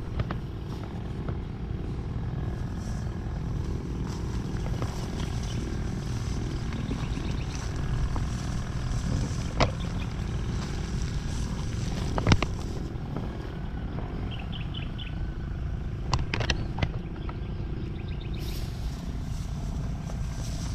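Loud, steady engine drone of a motorized sprayer pump running close by in a calamansi orchard, with a few sharp clanks and hisses over the constant roar.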